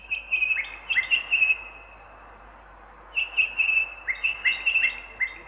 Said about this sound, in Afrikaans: Hulle hoor 'n bokmakierie.